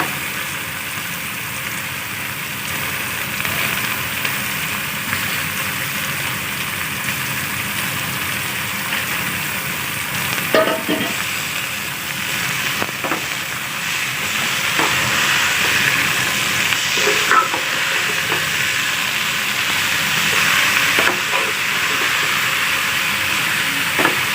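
Spinach leaves frying over a full flame while being stirred in a pan, a steady hiss with scattered scraping and clinking of the spoon, moderately loud and continuous throughout, with no talking.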